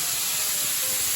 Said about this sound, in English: onions, garlic, sizzling.